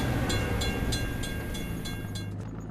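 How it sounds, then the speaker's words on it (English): A train passes a closed crossing gate in a kids' vehicle video game, a steady rumble with regular clacking pulses, moderately loud and alone. "We have to wait for the train to pass."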